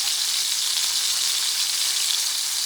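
Butter and garlic fry in a cast iron pan with a dense, even sizzle. It is loud and close, holds steady throughout, and no one talks over it.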